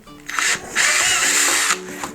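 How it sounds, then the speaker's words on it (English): Two close bursts of a power drill with a 3/16 bit drilling through snowshoe binding parts, a short one then a longer sustained run, loud and alone. "just drill through"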